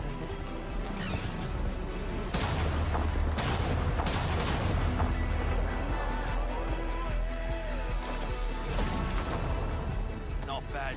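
Gunfire and heavy impacts crash through an Apex Legends firefight, with bursts of shots, booms and smashes layered over battle noise, loud and continuous, while voices talk in the mix.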